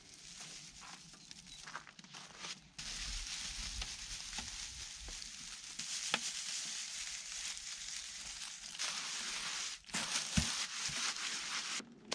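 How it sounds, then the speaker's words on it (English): Wet cob being mixed with straw by hand, a continuous squelching, crunching churn with crinkly straw texture and occasional sharper knocks, close up and fairly steady. "So I'm gonna just keep mixing this up and check back in at the end when the mix is finished"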